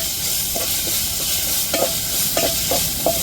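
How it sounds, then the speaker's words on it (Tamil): Green chillies crushed on a stone grinder sauté in hot oil, giving a steady close sizzle broken by repeated scraping stirs. "இப்போ அம்மிலையே இடித்து எடுத்த பச்சை மிளகாயை சேர்த்துக்கிருவோம் நல்லா எண்ணெயில் வதக்கி விட்டுருவோங்க"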